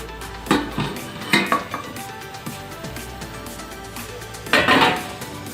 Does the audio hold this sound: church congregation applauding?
no